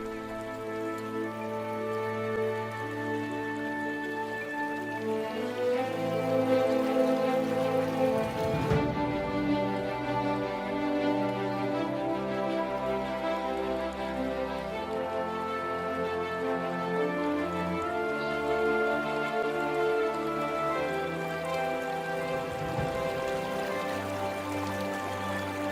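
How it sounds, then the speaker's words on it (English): Heavy summer rain falls steadily near a river in the wild, a continuous hiss of drops on surfaces that holds an even loudness throughout, with a tonal musical bed running beneath it. "Heavy rain clouds mark the onset of summer."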